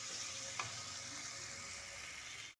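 Potatoes fry in a spiced masala in a home kitchen pan, a steady soft sizzle with a faint clink of a utensil, continuous and quiet before cutting off abruptly.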